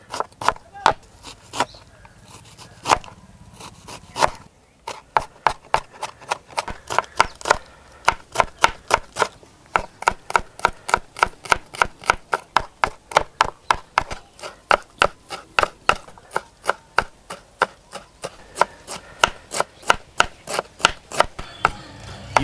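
Knife chopping onions and garlic finely on a board for street-style masala vada, a long run of rapid, steady, close crisp chops, briefly pausing once near the start before continuing evenly.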